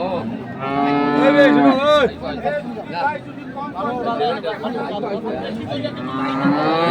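A Jersey dairy cow moos loudly and repeatedly at a cattle market in Dinajpur, long drawn-out calls close by over background crowd chatter.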